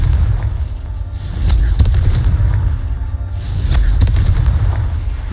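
A Confringo spell blast goes off in a wizard video game, with deep booming explosions rolling out in repeated bursts over a sustained low rumble, loud and close.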